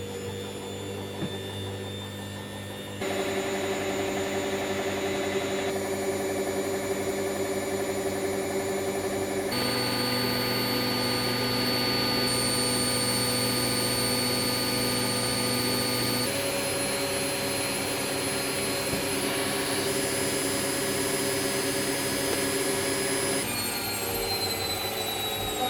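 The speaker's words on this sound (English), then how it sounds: "It's finished the spin cycle, but as you can see, there's no smoke." Hoover Wizard washer dryer running a spin cycle, a steady machine drone with whining tones that step up in pitch and speed in stages, continuous and fairly loud throughout.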